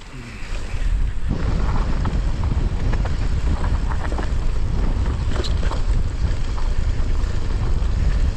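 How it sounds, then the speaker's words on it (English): Strong wind buffeting a microphone outdoors in the Tweed Valley during a mountain bike ride, a loud continuous low roar and rumble that swells in after the first second and fills the whole clip with no voice. "Probably can't hear me over this wind, it's pretty strong actually."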